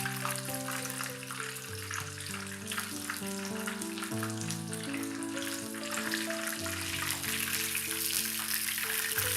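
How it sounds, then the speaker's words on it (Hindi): Fish fries in oil over a slow flame, giving a dense, steady crackling sizzle that continues without a break. Background music plays underneath. "आप उसको स्लो फ्लेम पर जो है वो फ्राई करें"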